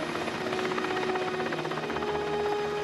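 A helicopter hovers above snowy terrain, its steady rotor drone and engine whine continuous and fairly loud throughout, with no voices.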